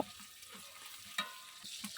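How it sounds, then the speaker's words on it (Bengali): Shrimp fry in oil in a pan, a faint steady sizzle with a couple of soft stirring scrapes, no one talking. "কড়াইয়ে পরিমাণ মতো তেল দিয়ে চিংড়ি মাছ দিয়ে দিলাম। চিংড়ি মাছ কয়েক সেকেন্ড ভেজে নেব।"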